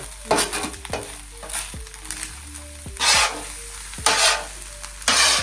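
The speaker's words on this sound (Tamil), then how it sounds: "வெங்காயம் கொஞ்சம் போடுவோம். பொரிச்சு தானே" Onions fry in a hot pan, giving a close, loud sizzle broken by repeated scraping stirs and surges of hissing as the pan is worked.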